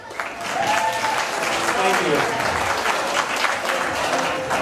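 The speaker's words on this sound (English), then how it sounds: "Big round of applause" Wedding guests applaud in a sustained burst of clapping that fills the room, with a voice speaking briefly over it.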